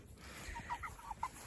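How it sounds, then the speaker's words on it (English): Chickens clucking softly nearby at a willow coppice, several short murmured clucks scattered over a faint outdoor background. "I'm going to get followed by chickens now."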